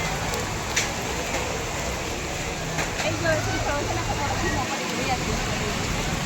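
Heavy rain pours steadily outside a Hanuman temple in Surat, a dense continuous hiss of falling water under occasional nearby voices.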